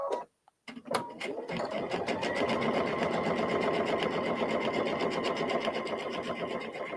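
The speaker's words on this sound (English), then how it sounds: "So I'm going to come over here and I'm going to sew" A Brother Aveneer sewing machine stitches quilt fabric, its needle running in a steady, fast, close-up mechanical rhythm that starts after a brief pause and continues unbroken to the end.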